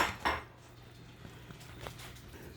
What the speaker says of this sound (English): It's going to go back in the oven for about 5 minutes.